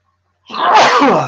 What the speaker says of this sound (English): I'm going to sneeze here because I can feel it any second